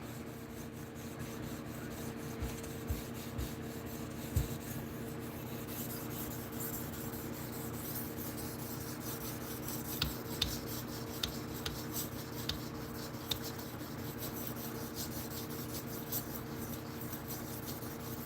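A knife is worked over a 600 grit sharpening stone with a soft, continuous rubbing rasp, close but quiet, broken by a few faint clicks and under a low steady hum.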